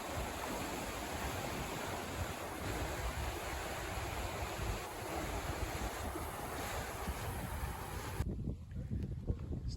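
Water rushes and churns into a lock on the Murray River as it fills quickly, a loud continuous roar close by with wind buffeting the microphone, cutting off abruptly near the end.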